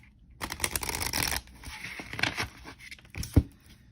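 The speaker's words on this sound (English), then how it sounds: "And the deck shuffles very well" An Egyptian Gods oracle card deck is shuffled by hand, close and fairly quiet, with bursts of riffling card flutter and soft papery slaps, ending in a sharp tap.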